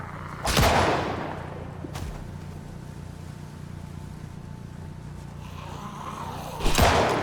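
Shots fired at zombies in Project Zomboid: two sharp, loud gunshots, one near the start and one near the end, separated by a stretch of quiet ambient hum with no talking.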